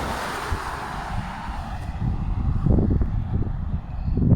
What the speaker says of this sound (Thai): เหมือนร้อนแต่ว่ามีลมตลอด